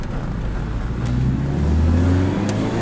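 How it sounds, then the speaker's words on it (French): A car engine and exhaust rev up, a low droning rumble rising gradually in pitch and loudness, close and continuous with no talk. "Avec l'échappement qui fait prout-prout."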